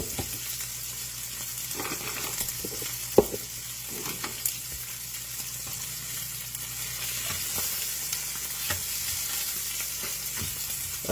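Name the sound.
steaks frying in a pan with butter and onions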